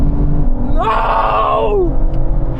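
An Aston Martin engine revs hard at a drag race, a loud rising-and-falling howl lasting about a second over constant heavy rumble and crowd noise.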